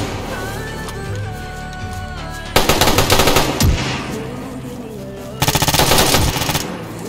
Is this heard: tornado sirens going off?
no